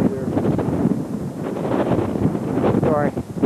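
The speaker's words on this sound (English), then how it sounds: "it's kind of windy up here." Wind buffets the microphone with a loud, steady rumble up high by a pier, while faint voices come through underneath.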